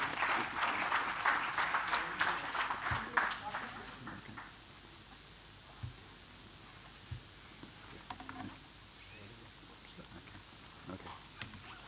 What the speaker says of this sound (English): I would request all of you to uh, invite him with a round of applause